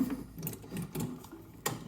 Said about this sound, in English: Switch your ratchet direction